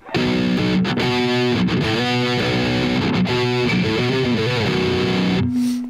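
Electric guitar played through an amp modeler with cabinet simulation and a virtual microphone, giving loud, distorted, sustained chords and riffs that ring continuously for about six seconds, with no talking.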